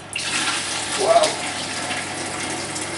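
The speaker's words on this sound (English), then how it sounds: "So we're filling this first section of our machine with water and ethanol solution" Water and ethanol solution, 40% strength, pours into the first section of a vodka filtration machine with a steady faucet-like gush and a brief louder surge midway; a short exclamation is heard.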